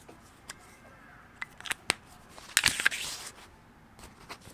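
Scissors snip through paper for a Hobonichi Techo planner in several sharp, close cuts, with a busier cluster of crisp slicing in the middle, heard alone and fairly quiet.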